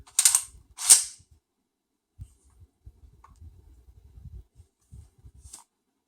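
An IWI X95 Tavor rifle's charging handle is racked back and released, giving two loud, sharp metallic clacks close by, then quieter handling clicks and rattles of the rifle.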